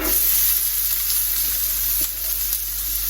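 Vegetables fry in hot rapeseed oil in a pan over medium heat, giving a steady, loud, close sizzle that hisses without break, with no voices over it.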